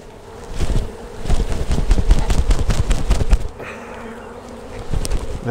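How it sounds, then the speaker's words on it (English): A dense buzzing swarm of honey bees being shaken out of a hive super with repeated thumping knocks and jolts, close by, then the buzzing thins and hums on faintly. "then we'll shake all these bees out of here"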